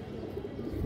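Pigeons coo softly in a loft of racing, high-flying and fancy breeds, a low murmuring coo repeating through the short moment with no voices over it.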